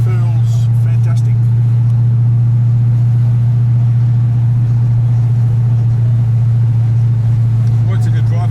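Ford GTHO Phase 3 tribute car cruising, caught from the passenger seat, with a steady deep engine drone and road rumble running throughout, close and loud, while people talk over it.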